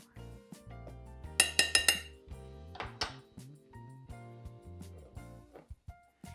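Flour and baking powder being mixed into cake batter in a bowl, giving a run of clinks and light knocks of a utensil against the bowl, loudest in a quick burst early on, then softer scraping taps, with no talking.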